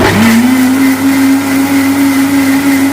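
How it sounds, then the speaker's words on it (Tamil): A mixer grinder whirs steadily at high speed blending beetroot, a loud continuous motor drone with a stable pitch that holds from start to finish. "இப்போ இதை வந்து மிக்சியில் அடிச்சுக்கிடுவோம்"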